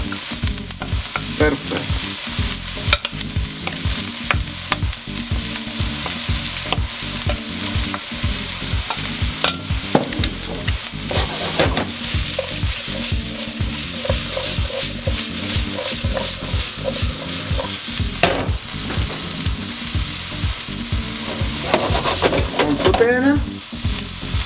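Vegetables with chili pepper frying in a pan for caponata, a steady loud sizzle with frequent stirring scrapes and clatter throughout, a brief spoken word near the end.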